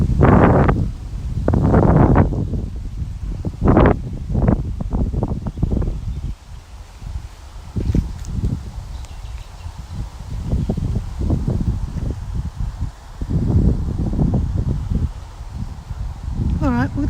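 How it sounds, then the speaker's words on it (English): Wind gusts through plants in an open garden, rustling the foliage beside a flowering plant related to the hibiscus, with a steady low rumble on the microphone and occasional talk. "The wind's picking it up."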